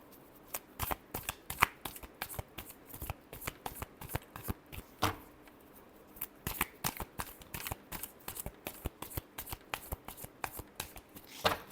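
Tarot cards shuffled by hand, a rapid, close stream of crisp riffling flicks and slaps repeating steadily with only brief pauses.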